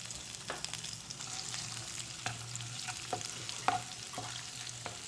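Crushed ginger and eight large garlic cloves frying in hot oil for chole masala, a soft steady sizzle with scattered light clicks and stirring scrapes, fairly quiet and with no voices.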